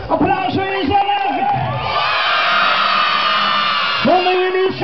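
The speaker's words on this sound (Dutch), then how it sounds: "Applaus voor jezelf." Children at a lively kids' party cheer and shout together, a loud burst of whoops and yells swelling after a presenter's voice, with talk again near the end.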